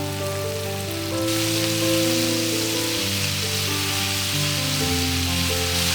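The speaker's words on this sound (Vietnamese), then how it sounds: "Khi dầu đã sôi thì mình cho gà vào chiên" Chicken pieces fry in hot oil for crispy fish-sauce fried chicken, giving a loud, continuous close-up sizzle that swells sharply after the first second and stays dense and crackling throughout, with no voices.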